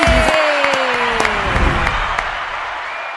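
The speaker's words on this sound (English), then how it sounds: "The crowd roars for the PhD" A studio audience claps and cheers for an economist arriving to give an economic update, steady loud applause with scattered shouts that gradually eases, with no voices talking over it.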